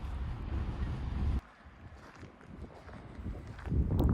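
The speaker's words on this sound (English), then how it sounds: "You definitely have to watch out for the wind though." Wind in the Southern Alps of Canterbury, New Zealand, rumbling hard across the microphone. It drops off abruptly partway through, leaving a quieter outdoor background, then the gusty buffeting rises again near the end.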